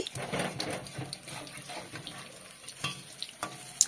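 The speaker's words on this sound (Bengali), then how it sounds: "এবার একটু নেড়ে দিচ্ছি।" Coriander leaf fritters frying in a pan as they are stirred, a steady soft sizzle with scattered scraping and clinking pulses, close and moderately quiet.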